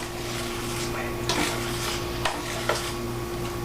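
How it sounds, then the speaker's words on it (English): Homemade baked beans with honey mustard being stirred in a pot, soft scraping and a few light spoon clinks against the pot over a steady low simmering hiss, close and fairly quiet. "Again, we're going to give this a little stir."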